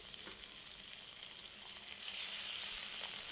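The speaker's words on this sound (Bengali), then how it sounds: "এদিকে আমি কুমড়ো ভাজাটা বসিয়ে দিয়েছি" Pumpkin slices fry in hot oil in a pan in a home kitchen, giving a steady, even hiss of sizzling that runs throughout without talk.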